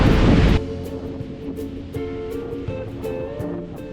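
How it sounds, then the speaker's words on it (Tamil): Strong wind rushing through trees at Valparai in the Tamil Nadu hills: a loud, dense gust fills the opening moment, then eases into a steadier, softer rustle with faint tonal sounds running through it. "இன்றைக்கி இங்கே காற்று ரொம்ப ஜாஸ்தியாக இருக்குது பாருங்கள். இந்த மரத்தினோட சத்தம் பாருங்கள் எப்படி கேட்குதுன்னு பாருங்கள்."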